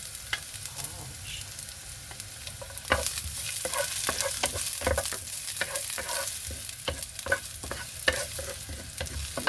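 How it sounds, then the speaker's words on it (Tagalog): Leftover rice with garlic being fried into sinangag in a pan, stirred with repeated scraping strokes over a steady close sizzle, with no talking. "sinangag na kanin dahil ang daming bahaw"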